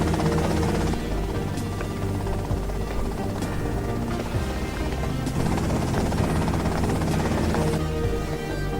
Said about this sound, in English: Okay, that's them in the chopper.